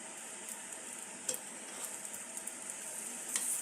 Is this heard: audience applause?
no